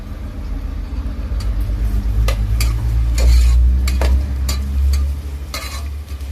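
Onions stirred in a pan for a boneless mutton curry give a run of scraping, clinking utensil strokes over a steady low rumble and faint sizzle, close and fairly loud throughout.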